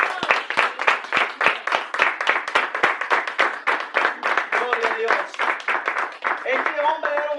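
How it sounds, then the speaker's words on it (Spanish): A church congregation claps steadily in a fast, even rhythm for several seconds, loud and close. Voices and faint tones come in toward the end. "Vamos a dar un aplauso al Señor."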